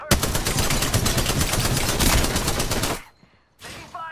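Apex Legends gunfire roars in a dense, loud automatic burst for about three seconds, cuts off abruptly, then resumes briefly after a short silence.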